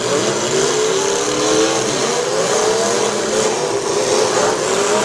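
Loud, close engines of large demolition derby cars revving and racing on the track at the Portage County derby, a dense roaring wash with rising revs and no talk.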